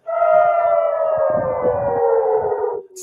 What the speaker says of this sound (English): Sirens wailing, with Israeli cities now on high alert.